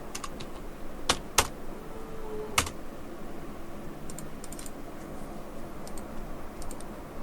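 Keys on a computer keyboard are pressed in sparse, irregular taps, a few sharp clicks standing out over a quiet room hum, with no voices.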